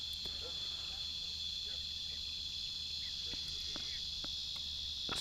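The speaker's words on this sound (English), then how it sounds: "Sounds like a cicada there, pretty close to the camera mic." Close-range insect calling, likely a cicada, in open countryside: a steady, loud high-pitched buzzing drone that persists throughout, with faint scattered clicks beneath it.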